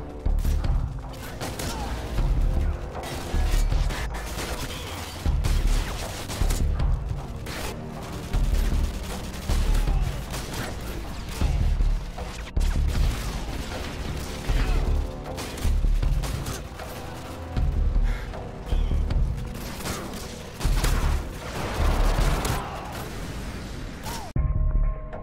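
Rapid bursts of gunfire repeat from the shotgun attachment in Call of Duty: Modern Warfare 2 (2009), loud and even, with mechanical clacks between the shots.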